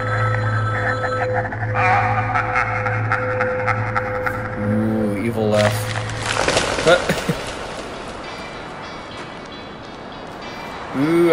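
Telephones ringing in the mobile horror video game Lost Tracks, a steady electronic ring fading out midway amid a dense, noisy game soundscape with shifting tones.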